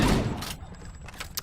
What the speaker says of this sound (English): Let's mow down the enemies with an assault rifle